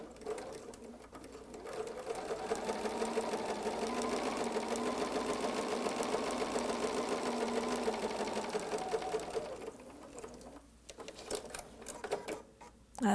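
A Bernina sewing machine stitches quilt fabric at a steady quarter-inch seam, a fast continuous mechanical whir running for about eight seconds before slowing and stopping, followed by faint handling clicks.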